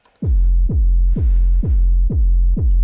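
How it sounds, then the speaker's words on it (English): Heavy electronic sub bass plays alone as six loud, evenly spaced throbbing notes. Each note starts with a pitch drop and is then held, with a steady pulsing rhythm and a deep, booming low end. "Then we have the sub."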